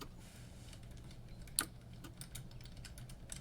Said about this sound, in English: I hear typing and now I'm nervous.